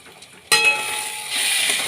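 Lote fish sizzling in hot oil in a pan, a sudden burst of frying hiss that stays steady and builds slightly, close and alone.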